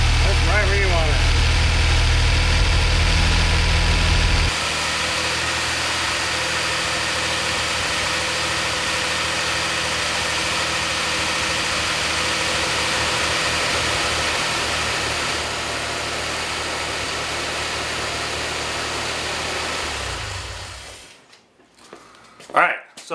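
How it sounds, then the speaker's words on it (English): A DeLorean car engine idles steadily at a raised, even pitch, with a slight change partway through before it cuts off near the end. "It's idling kind of high."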